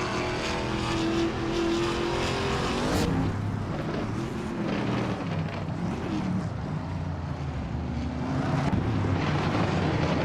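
Ford Mustangs and Chevrolet Camaros roar around a circuit in a racing video game, engines droning steadily and loudly throughout with pitch shifts as cars accelerate and pass.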